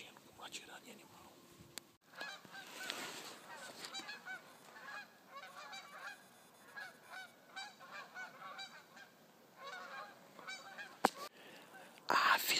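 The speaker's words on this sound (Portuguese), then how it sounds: "Aves migratórias!" Migratory birds, geese by their calls, honk repeatedly overhead at dusk, a ragged series of nasal calls of varying loudness with some faint human sound mixed in.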